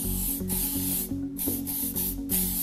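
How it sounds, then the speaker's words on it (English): Hairspray hisses from a can over a finished bridal updo in several quick, close bursts with short gaps between them. "give it one more spray"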